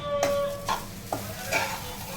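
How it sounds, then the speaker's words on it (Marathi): Onion and dried coconut roast in a pan for misal. A steady close sizzle runs throughout, broken by a few light spatula scrapes and stirs, with no talking. "मिसळ करायचे म्हणून कांदा खोबरं सगळं भाजून घ्यायचं चाललं"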